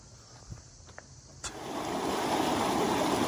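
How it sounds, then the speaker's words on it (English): Stream water at Clifty Falls splashing over rocks, a few faint taps, then a steady, close, full rushing roar that continues to the end. "Listen to the water collide on the rocks."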